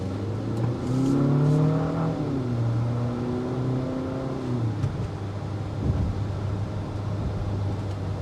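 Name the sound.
2025 Infiniti QX60 VC turbo engine accelerating in sport mode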